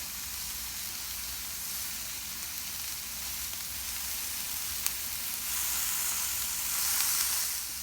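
Shrimp fry in a pan for a honey garlic dish, giving a steady, bright sizzle that swells slightly louder toward the end, with no talking.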